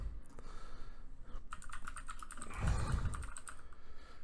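Quick, fairly close keystrokes clatter on a computer keyboard in irregular bursts over a low background hum.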